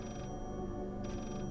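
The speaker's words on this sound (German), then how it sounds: "Ich höre jetzt immer noch dieses Telefon" Telephone ringing inside the horror video game Layers of Fear: two faint, bright trilling bursts, one at the start and one near the end, over a steady low ambient drone.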